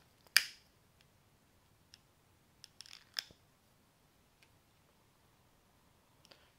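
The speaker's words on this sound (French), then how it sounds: "Je vais couper ça, ça ne m'intéresse pas." Scissors cut in a quiet room with a few crisp, isolated snips spaced out over several seconds.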